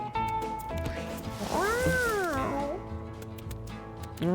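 A cat meows in a video game, one drawn-out, rising-then-falling cry standing out clearly over steady game music and effects.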